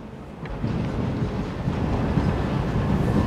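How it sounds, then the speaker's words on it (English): A DLR train passing at Greenwich, with a steady, moderately loud rumble and rolling rail noise throughout and some wind buffeting on the microphone. "wait for that DLR train to finish the video"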